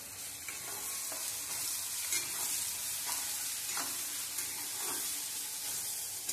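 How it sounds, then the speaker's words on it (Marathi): Half a spoon of turmeric sizzles steadily in hot oil for tempering, with soft stirring scrapes through the continuous frying hiss. No voices are heard. "हळद टाकल्यानंतर आपल्याला मिनिटभर परतून घ्यायचं आहे."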